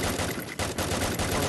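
Gunfire in the mobile shooter Garena Free Fire, a dense, continuous burst of rapid shots that fills the whole stretch, with only a brief dip midway.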